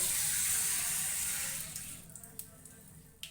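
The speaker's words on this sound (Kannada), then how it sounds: "ಸ್ವಲ್ಪ ನೀರು ಹಾಕ್ಬಿಟ್ಟು ಗಟ್ಟಿಗೆ ರುಬ್ಕೊಳ್ಳೋಣ" Water pours into a mixer jar while dosa batter is being prepared, a steady broad rush that tapers off after a second and a half into faint drips and small knocks.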